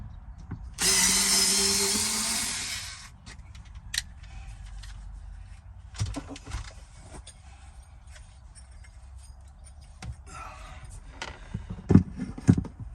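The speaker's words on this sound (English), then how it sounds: "Let's take a screw out of here for a second." Screw being backed out inside a Sprinter van: a loud power drill burst of about two seconds, followed by faint clicks, taps and rattles of handling parts and fasteners, close by, with no talking.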